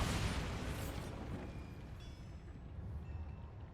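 A Bombarda blasting spell goes off in Hogwarts Legacy, a loud explosive burst right at the start followed by a broad rumbling, crackling decay with faint tonal debris trailing off.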